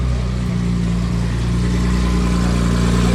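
A Toyota Supra engine runs loud and close with a steady, throaty rumble and a faint rising rev, no voices over it.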